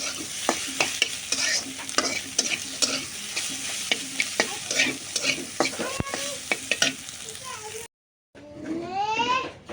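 Bitter gourd stir-fried in a pan, a continuous sizzle with frequent quick scraping stirs, then a short cut to a different background where a voice is heard.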